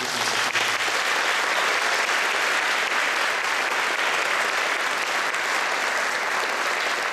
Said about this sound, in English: Let's get another round of applause for these wonderful people.